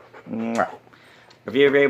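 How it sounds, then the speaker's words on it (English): A dog's whimpering whine rises in short bursts, close and fairly loud, with a brief breathy gap between the cries. "What are you barking at, crazy boy?"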